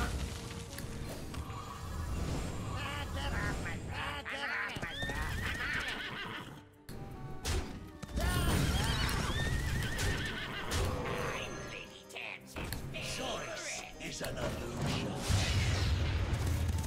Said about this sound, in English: The horse comes in on the right side.